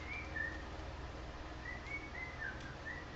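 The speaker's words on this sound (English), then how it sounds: "Birdie bird. You singing?" Faint, thin bird whistles come in short repeated phrases over a low steady background hum, with no talking.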